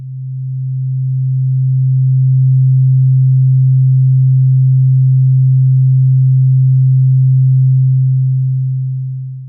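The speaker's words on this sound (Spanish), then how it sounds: "tendríamos que generar lo que se llama una onda sinusoidal" A pure sine wave tone holds one steady low pitch, loud and unbroken for nearly ten seconds, with a gentle fade in and out and nothing else around it.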